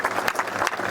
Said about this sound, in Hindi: मैं चाहूंगा एक बार जोरदार तालियों से उनका स्वागत।